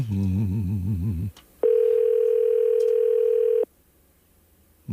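A telephone line rings during a call: a warbling electronic tone, then a long steady ring tone, then silence before the next ring begins, loud and close with no talking.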